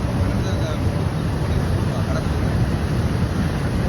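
Clear water pours through the eight opened gates of Mettur dam on the Cauvery river, making a loud, steady broadband roar that fills the whole clip.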